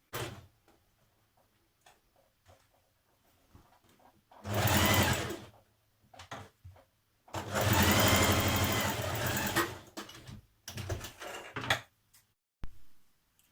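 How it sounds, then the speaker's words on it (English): Sewing machine stitching the shoulder seams of a Simplicity 8602 top, running in two sustained loud bursts separated by quiet handling noises and a few soft clicks, with no talking. "We're going to stitch the shoulders now."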